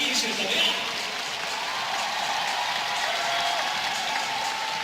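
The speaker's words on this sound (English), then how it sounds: "The crowd really getting behind the quartet at the front." A stadium crowd cheers and applauds runners at the front of a 10,000 m race, a steady wash of clapping and roaring that stays even and continuous throughout.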